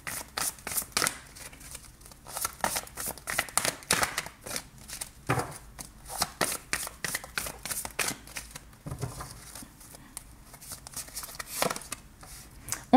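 Tarot cards being shuffled and drawn during a reading, a long run of crisp, rapid riffling and flicking bursts, close and fairly quiet, with brief slaps as cards are laid down.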